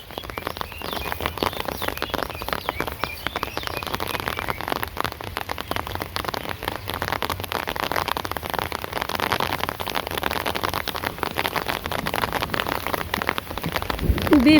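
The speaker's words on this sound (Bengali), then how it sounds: "এই যে দেখেন বৃষ্টি নেমে গেছে গা" Steady rain falls on surfaces beside freshly sown Aman paddy fields, with a dense, continuous patter of close drops and no talk, building slightly louder at the end.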